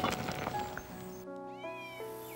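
A cat meows a few times in quick succession, close and clear, with drawn-out rising and falling cries.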